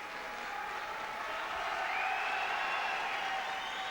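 A boxing arena crowd applauds and cheers after a knockout, a broad, steady roar of clapping and voices that swells slightly midway and holds on.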